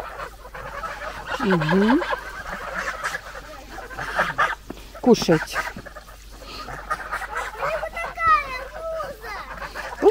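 Geese and chickens in a farmyard honk and cluck in short bursts close by, with a voice talking between the calls.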